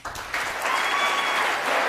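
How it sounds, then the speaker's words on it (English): A crowd applauds steadily, a dense wash of clapping that swells after a brief start and holds at full strength throughout. "Please give them a round of applause."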